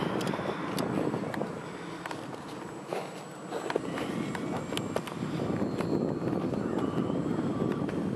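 A North American Robotics Prairie Hawk RC airplane flying loops low overhead outdoors, its propeller buzz rising and falling against a steady breezy background.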